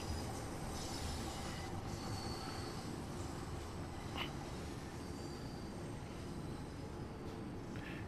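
London Underground train running in the Train Sim World 3 simulation, a steady mechanical rumble of wheels on rails with occasional squeals and whines, fairly quiet and continuous with no talking.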